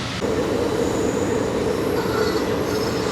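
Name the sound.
train running on tracks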